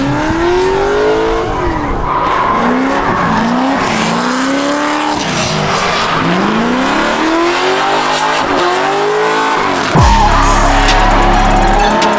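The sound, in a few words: drifting race cars driving fast on track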